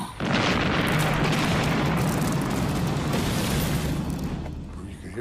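An artillery shell explodes in a heavy, sustained roar with broad rumbling noise, loud and continuous for several seconds before slowly fading, during the D-Day landings in Normandy.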